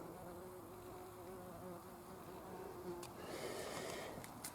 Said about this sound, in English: this wee fur-shouldered bee does an awful lot of buzzing